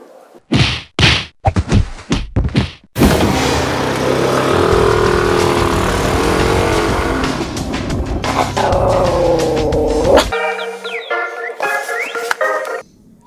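A few sharp knocks, then a loud motorcycle engine roars steadily for several seconds before cutting off abruptly.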